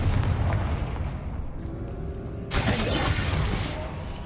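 Confringo blasting spells in Hogwarts Legacy, a rumbling fiery burst followed by a sharp, bright explosive crack midway, loud and close over a dense game soundscape.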